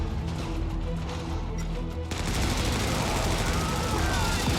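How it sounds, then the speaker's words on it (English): Dense, continuous video-game gunfire from guns in Helldivers, loud and chaotic, with rapid bursts blending into a roaring wash and a sharp change in texture midway. "make sure to shoot, like, all of your bullets before you reload"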